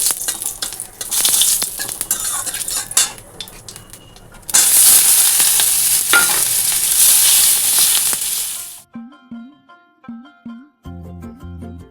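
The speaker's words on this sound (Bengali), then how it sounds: "এটা হচ্ছে চিচিঙ্গা পেঁয়াজ দিয়ে ভাজা করবো" Ridge gourd and onion frying in a pan with turmeric, dried red chilli and black cumin: a loud, close sizzle with busy stirring scrapes, swelling halfway through, then ending abruptly and giving way to a few short tonal chimes.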